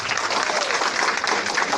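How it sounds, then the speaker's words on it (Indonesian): An audience at a business seminar bursts into applause, a brief, dense and steady burst of many hands clapping, fairly loud with no talk over it. "Berikan tepuk tangan yang meriah dulu."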